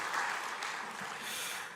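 A church congregation applauds in a broad, steady wash of clapping that carries evenly from start to end, fairly distant and soft in the room, with no speech over it.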